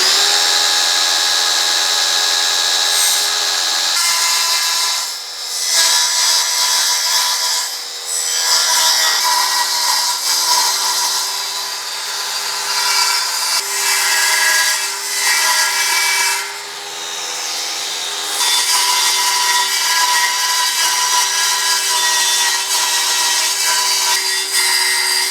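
A power saw cuts freehand through wood in a workshop, a loud, steady whine that runs for most of the clip with a few short dips where the blade eases off, alone with no talk.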